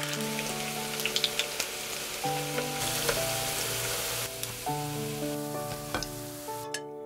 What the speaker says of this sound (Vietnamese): Mình chiên lại cho vàng mặt cắt là được.